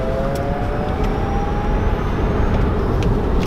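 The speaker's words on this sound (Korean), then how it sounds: "만약에 제가 예를 들어서 급하게 가속 페달을 한번 밟아 보겠습니다" An electric car pulls away hard after a sudden stab of the accelerator, giving a steady broadband road and motor roar with a faint rising whine, continuous and fairly loud from inside the cabin.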